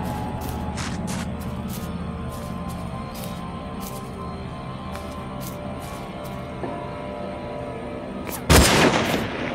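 Distant gunshots from a hunter in the video game Hunted, a scattered series of sharp cracks over a low ambient hum, ending in one louder, nearer blast.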